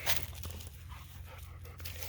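A dog pants steadily after wearing itself out on a Florida hike, a close, continuous rhythmic breathing that runs throughout with a low outdoor rumble underneath.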